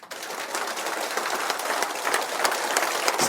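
An audience of bank staff at a training session in Hyderabad claps continuously and briskly, a dense, even wash of many hands from start to finish.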